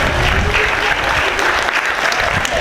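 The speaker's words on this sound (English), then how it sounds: "let's give them a big round of applause" A crowd at a school statue dedication gives the class of 2016 a big round of applause, dense and loud clapping filling the whole stretch, with a few voices underneath.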